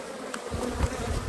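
Honeybees buzzing around an open hive during an inspection, a close, steady droning hum that swells a little louder after the first half second and continues without talking.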